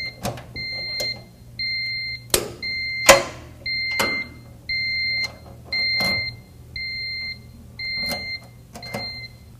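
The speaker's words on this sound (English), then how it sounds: "The beeper reminds me to keep going." A UPS bypass switch beeper sounds a regular series of short paired electronic beeps, clear and evenly spaced, over a low hum and occasional loud clicks and clunks of handling.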